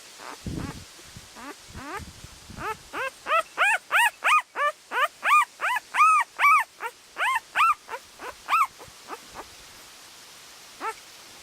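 A run of high, rising whimpers and yips from Alapaha and American Bulldog cross puppies, repeated quickly in a steady series, close by, fading out near the end.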